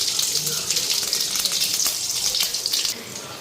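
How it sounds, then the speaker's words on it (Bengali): Cumin seeds and bay leaf hit hot oil in a heated kadai, crackling and sizzling in a bright, hissing burst that stays loud and close throughout. "জিরা আর তেজপাতা ফোড়ন দেওয়া দিই।"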